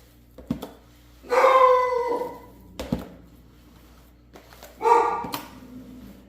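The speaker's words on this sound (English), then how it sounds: "The dog has apparently heard something outside and gonna bark at this particular time." An indoor dog in a home kitchen lets out two loud, drawn-out barks that are almost howls, with short sharp knocks and thuds nearby and quiet gaps between them.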